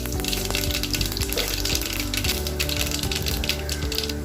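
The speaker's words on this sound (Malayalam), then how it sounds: "ലേശം എണ്ണ ഒഴിച്ച് കൊടുക്കുക. എണ്ണ ഒഴിച്ച് നമ്മൾ കടുക് പൊട്ടിക്കുക." Mustard seeds spluttering in hot oil in a pan, heard as a dense, continuous close crackle and hiss that stays loud and even throughout.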